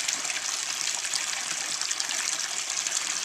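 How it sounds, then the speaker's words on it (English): Creek water flows steadily over the stream bed in a continuous, moderately faint gush and trickle outdoors, with no talking. "Right there, right where the water's flowing nice."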